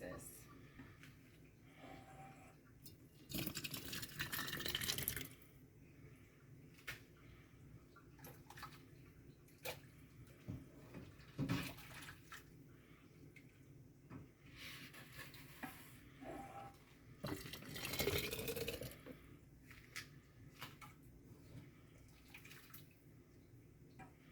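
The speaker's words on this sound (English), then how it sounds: "as I fill these jars up, I'm going to show you that process" Navy bean soup being ladled into canning jars, with wet sloshing and scraping bursts of pouring and stirring, moderately loud, over a steady kitchen background.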